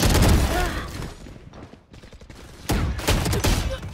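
Automatic weapon fire in a shooter video game, a rapid dense burst up front, a brief lull, then another loud sustained burst.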